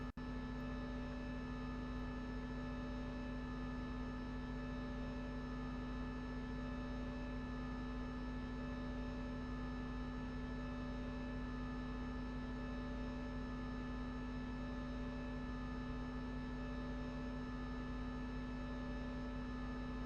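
A steady electrical hum from a MiG-21Bis left with its electrical systems on after a cold start in the DCS flight simulator, constant and unchanging with a soft hiss beneath it.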